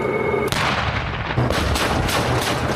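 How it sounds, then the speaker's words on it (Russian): Tank guns fire during crews' live-fire training alongside Terminator tank support combat vehicles, loud repeated booming blasts at about half-second and later intervals with a sustained rumbling din between them and no voices. "ежедневной подготовки с боевой стрельбой танковых экипажей"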